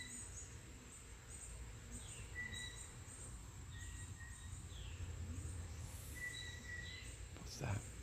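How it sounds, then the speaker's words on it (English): A bird gives faint, repeated short chirps outdoors against a quiet background hum, with a few soft knocks near the end. "You hear the bird?"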